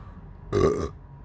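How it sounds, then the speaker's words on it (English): A single loud, close burp lasting under half a second after eating Primotalii peach peppers, rising abruptly out of a quiet room and ending cleanly with no talking. "Like I need a pepper burp."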